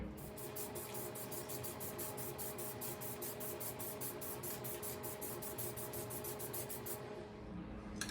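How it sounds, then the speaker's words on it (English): A continuous hiss of an aerosol can spraying for about seven seconds, with a rapid rhythmic pulsing, then it stops. "All right, let's spray this bad boy."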